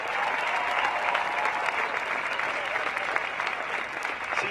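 Outdoor crowd at a street protest rally clapping and cheering, a dense, steady wash of applause that holds strong throughout with scattered shouts mixed in.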